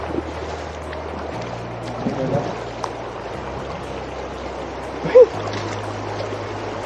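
Strong water rushes steadily through a garden stream in Chanthaburi, Thailand, a continuous close broadband gush with a low hum underneath and one brief sharp knock near the end.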